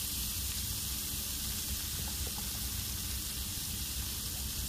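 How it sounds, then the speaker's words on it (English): Meat with peppers and onions fries in a pan, giving off a loud, steady sizzle and hiss that never lets up while the food is stirred. "let me stir it just a little bit more"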